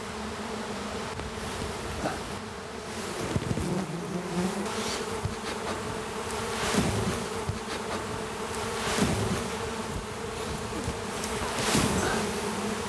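A swarm of hundreds of bees covers an actress during a film stunt, making a dense, continuous buzzing drone that stays loud and close throughout, with rising and falling swells as individual bees pass near.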